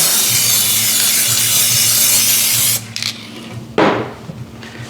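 A steady hissing spray of layering spray on a model railway diorama runs for several seconds, then stops and gives way to a couple of short bursts and rubbing noises, loud and close.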